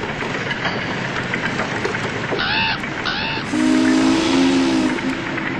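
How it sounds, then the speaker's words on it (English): Rumbling mechanical noise runs throughout, broken by short whistle-like tones and then a strong, sustained steam whistle blast toward the end. "Like the trumpet of judgment blew the steam whistle of the electric light works."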